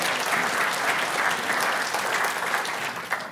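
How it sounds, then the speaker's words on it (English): An audience at a senior preaching week chapel service gives a round of applause, loud, dense clapping that holds steady throughout and tapers slightly at the end. "we better give my wife another round of applause"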